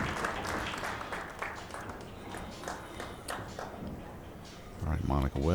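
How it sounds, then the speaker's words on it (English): Spectators at a women's pool tournament, the WPBA Masters, clap in a sustained round of applause, a steady wash of clapping that fades before a voice begins speaking at the end. "Give a round of applause for Beth Fondell as she is eliminated from the competition."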